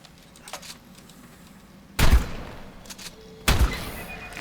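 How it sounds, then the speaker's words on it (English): Two heavy shotgun blasts in the game ARK inside a big cave, each a loud sharp boom about one and a half seconds apart, with faint clatter and footsteps between. "Get the shotgun out."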